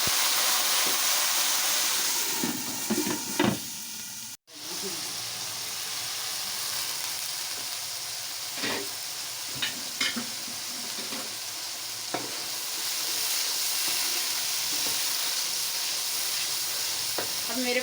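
Garlic, ginger and green chili paste frying with browned onions in a pan gives a steady loud sizzle and hiss, broken by a few clinks and stirring scrapes.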